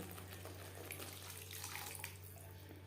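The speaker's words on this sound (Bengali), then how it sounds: "দিয়ে দেব জল।" Water poured from a tap into a pan of egg curry masala, a soft continuous splashing and trickling over a low steady hum, faint and with no talking.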